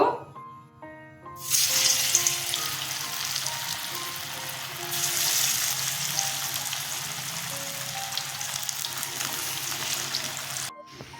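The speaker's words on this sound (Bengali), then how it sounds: "তেল গরম হয়ে গেছে, ধোকাগুলো ছেড়ে দেব।" Pieces of green plantain dhoka sizzle hard in hot mustard oil, a loud steady frying hiss that jumps up after a brief quiet opening and runs without a break, cutting off sharply near the end.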